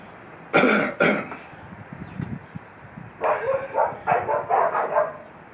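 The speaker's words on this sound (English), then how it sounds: "The dogs are barking." Two sharp dog barks sound close up, followed after a pause by a run of quicker, rhythmic barking and yipping.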